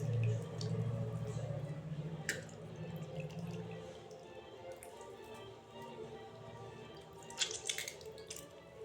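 Washed, soaked soybean chunks are squeezed by hand, and faint water drips and trickles fall close by against quiet room noise.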